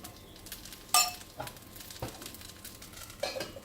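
Appam batter cooks in a pan as a little oil is drizzled around its edges, giving a faint, steady sizzle broken by a few sharp clinks and taps of a utensil against the pan.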